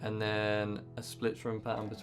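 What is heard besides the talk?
None of the usual background noises is heard.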